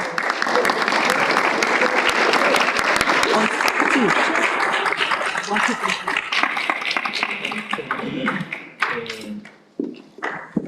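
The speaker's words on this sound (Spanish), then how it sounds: "pido un fuerte aplauso para él" A large audience applauds steadily for a doctor welcomed at a music-school academic event, dense clapping sustained near and loud for several seconds before thinning out and tapering off unevenly toward the end.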